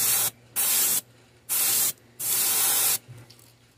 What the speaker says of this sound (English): we're just gonna just spray it right through there.